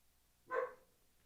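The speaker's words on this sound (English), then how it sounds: "What is Chapo barking at" A single faint, short dog bark sounds at a distance against a quiet background.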